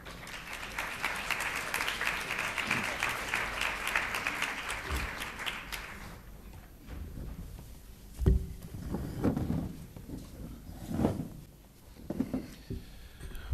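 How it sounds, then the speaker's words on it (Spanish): Audience applause at an autism conference in Madrid, a sustained wave of clapping for about six seconds that stops abruptly, followed by quieter room noise with soft knocks and shuffling. "os pido un aplauso para ellos"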